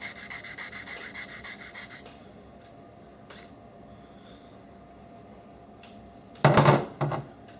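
Metal file rasping against a fishing rod guide to clear burrs, a steady scraping rub for about two seconds, then quiet, ending with two sharper, louder strokes close by.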